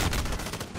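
Gunfire in a video game, a short burst of several rapid shots crowded into under a second, fairly loud and close.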